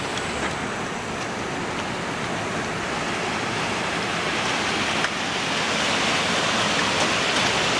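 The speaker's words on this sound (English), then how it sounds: "This is the spillway here." Water rushing steadily over the spillway at Lachine Lock on the Lachine Canal, a loud, constant broadband roar close by with no voices.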